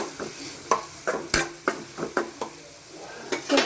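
A spoon scrapes and knocks against a pan in repeated irregular strokes while food is stirred and mixed, with faint sizzling underneath, close and without voices.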